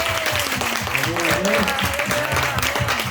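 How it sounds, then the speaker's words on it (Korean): A church congregation at a Thanksgiving service claps together in praise, a steady, dense round of applause throughout with voices faintly mixed in. "영광 받으신 하나님께 영광의 박수 드립니다."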